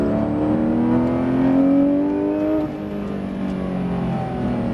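A Porsche GT3 RS accelerating on the La Ferté-Gaucher race track, its engine note climbing steadily through the revs, loud and close as heard from inside the car, then easing briefly before pulling on.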